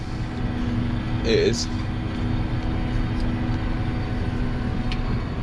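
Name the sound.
farm vehicle engine revving while spraying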